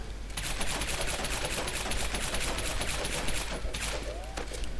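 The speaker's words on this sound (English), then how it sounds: "we're just going to shoot out until we have 1 clip left" Rapid, continuous pistol gunfire in The Bourne Conspiracy video game, shot after shot in a dense, steady stream lasting several seconds, loud and close, with no talking.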